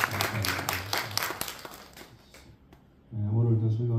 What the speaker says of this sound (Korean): 한번 박수해 주시기 바랍니다